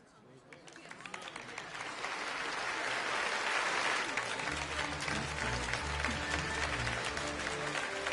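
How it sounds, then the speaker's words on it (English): Crowd applause in the video game Final Fantasy XII swells from quiet to a loud, sustained roar of clapping, with a low musical drone entering partway through. "Notice Vaughn and Penelo aren't clapping."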